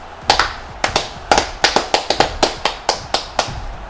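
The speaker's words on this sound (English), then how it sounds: "Let's clap it up." A small group of people clap together at close range in a casual indoor setting, roughly a dozen sharp, loud claps in an uneven rhythm, alone without talk.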